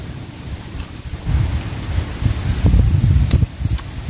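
Cool wind blows across an open rice field, a steady low rumbling buffet that swells and gusts louder midway, with no voices.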